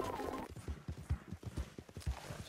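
Horse hooves clip-clopping in Red Dead Redemption 2, a run of evenly spaced, fairly close thuds after a brief noisy burst at the start, with no talk over them.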